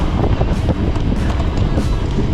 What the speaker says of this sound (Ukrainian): А і вітер цей здуває просто.